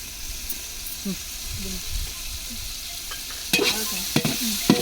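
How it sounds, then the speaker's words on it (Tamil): Ginger garlic paste, green chilli, mint and coriander leaves sautéing in oil for a wood-fired dum biryani, a close, steady sizzle with bursts of louder frying and spoon scrapes near the end. "இஞ்சி பூண்டு நல்லா வதங்கிட்டு"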